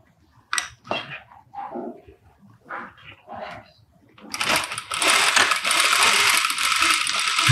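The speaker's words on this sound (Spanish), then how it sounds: "y aquí sigo cosiendo." Some faint movement and handling sounds come first, then a sewing machine starts. It runs loud, fast and steady as it stitches a trouser pocket.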